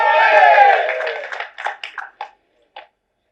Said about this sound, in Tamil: தயவு செஞ்சு நீங்களே ஒரு தடவை கை தட்டிருங்க